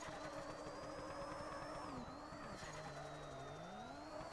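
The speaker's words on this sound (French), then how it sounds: "Parce qu'on a le son du moteur en direct." A car engine in the PS5 driving game Drift Streets Japan, heard from the interior view, holds a steady droning whine that dips and shifts in pitch as the revs change, continuous and alone.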